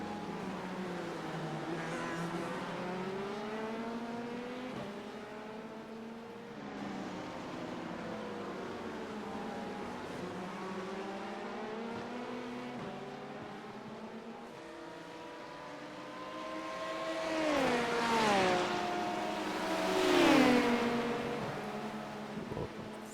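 LMP2 prototype race car engine in iRacing, a steady buzzing drone with shifting pitch as it revs up and down through gears, rising to a louder, higher scream near the end while GT3 cars run nearby.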